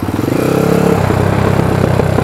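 A close quad engine revs, then drops in pitch as it downshifts and settles into a rattling, pulsing engine-braking drone.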